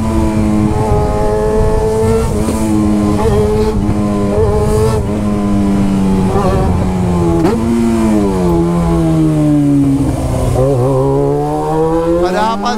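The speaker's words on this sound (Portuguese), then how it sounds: "Que saudade que eu tava dessa moto" A Yamaha XJ motorcycle engine revs loudly and close, its pitch climbing and falling through several throttle sweeps with a steady rumbling drone underneath.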